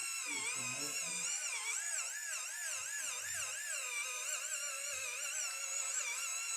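A Pro X cleansing system thermal facial polisher runs continuously, a high, steady buzzing hum with a slightly wavering pitch, close up and alone with no talking.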